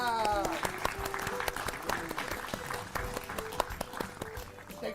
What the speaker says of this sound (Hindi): हो जाए जोरदार तालियां